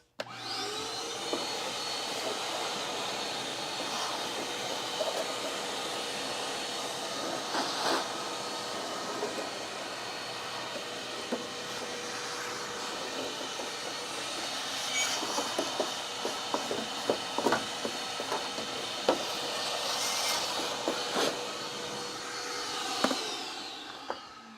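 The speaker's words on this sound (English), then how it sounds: "It is once again time to shop vac." Shop vac vacuuming out a car: a loud, continuous close roar for the whole stretch, with occasional knocks and rattles from the nozzle moving around, no voices.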